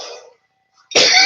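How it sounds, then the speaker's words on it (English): Two short coughs from one person, a brief throat-clearing burst, a pause of silence, then a louder, harsher cough close to the microphone. "Excuse me for coughing today,"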